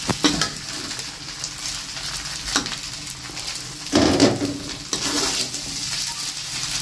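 Glass noodles with pork stir-fried in a pan give a steady close sizzle and fry hiss, with a few scraping stirs and a louder burst of spatula work near the middle, no talking.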